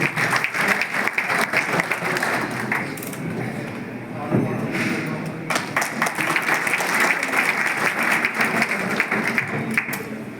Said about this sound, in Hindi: जोरदार ताली बजाओ, पूरा हॉल बना हुआ है, ताली नहीं रहनी चाहिए